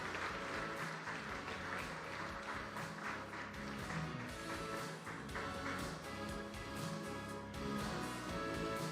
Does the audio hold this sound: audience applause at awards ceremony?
yes